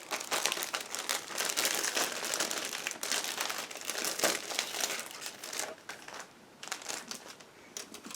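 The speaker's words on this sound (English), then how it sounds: "they are packed into one plastic bag. So just give me a second to open them" A plastic bag holding the sprues of an Eduard 1/48 Yak-3 model kit crinkles and rustles steadily and close up as it is handled and opened, with no talk.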